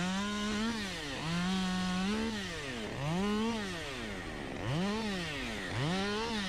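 A Husqvarna 572 XP chainsaw cuts through tree branches, its engine loudly and steadily revving up and bogging down in a repeating rise-and-fall cycle roughly every second, with no voices.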